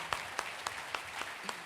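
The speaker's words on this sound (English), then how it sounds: "let's have another round of applause for the Helms" A luncheon audience applauds, but faintly and from a distance, with a handful of separate claps spaced at a steady, slow rhythm.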